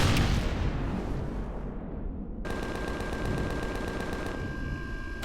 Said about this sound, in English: Who's shooting? Where are you shooting from?